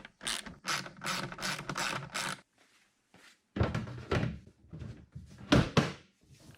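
A hand ratchet tightens the hardware that bolts an Oneida Dust Deputy cyclone separator onto a bucket lid. Quick clicking bursts come close by in two clusters with a quiet gap between them.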